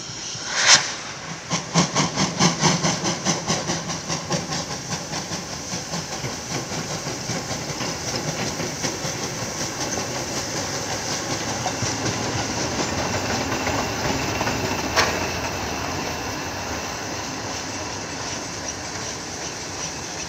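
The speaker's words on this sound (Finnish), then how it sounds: "Tässä nähdään HR1, Ukko-Pekka, numero" HR1 Ukko-Pekka steam locomotive number 1021 at the Hyvinkää railway museum yard, with a sharp hiss of steam at the start followed by rhythmic chuffing and rolling rail noise that settles into a steady hissing rumble, with another brief burst later.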